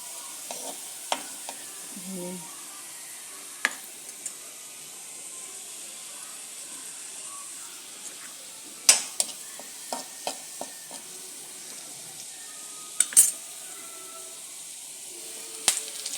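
Curry leaves drop into hot oil in a pan for kadala curry, giving faint scattered crackles and a few sharper pops over an otherwise quiet, low hiss.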